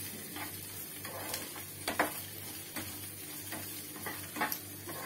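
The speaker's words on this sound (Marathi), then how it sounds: "हे ओलं खोबरं आणि ते आपण भाजून घेणार आहोत" Fresh grated coconut roasting in a pan with browned onions for Kerala-style sukka chicken, stirred with a spoon: faint scraping strokes come at irregular intervals over a low, steady sizzle.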